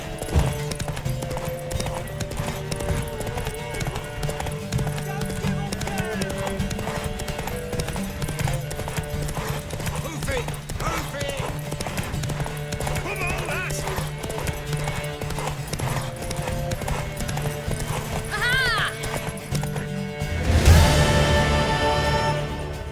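A horse gallops in a race in The Witcher 3, its hoofbeats drumming steadily under a game music score, with a brief louder swell near the end.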